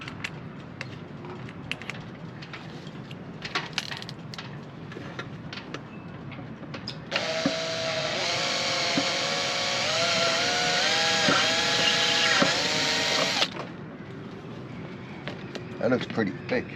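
A step drill bores a hole in an old sailboat, giving a loud, whining burst of about six seconds with the pitch shifting as it cuts. People talk before and after the drilling, with some handling clatter.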